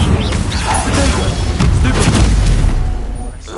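Fiery incendiary spell blast in the Hogwarts Legacy video game on PlayStation 5, a loud, sustained roaring burst with booming impacts filling the whole moment, game speech mixed in.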